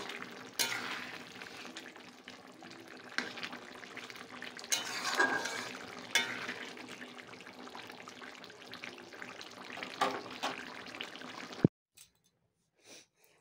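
Bottle gourd curry cooking in a pan: a steady close sizzle with scraping stirs and occasional clinks of the utensil against the metal, stopping abruptly near the end.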